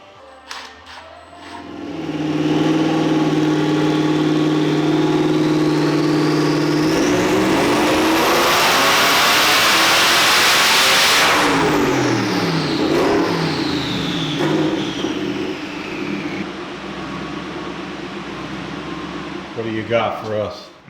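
A twin-turbo Mustang drift car, running 12 pounds of boost, idles on a dyno, then winds up in one long loud rising pull with turbo whine before dropping back to a rumbling idle and settling.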